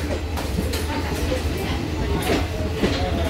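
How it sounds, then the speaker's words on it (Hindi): A DEMU passenger train running from Saharsa to Purnea rumbles along the rails with a continuous low roar and faint rhythmic clatter, heard from inside the carriage. "डेमो ट्रेन है जो सहरसा से पूर्णिया के लिए जा रही है"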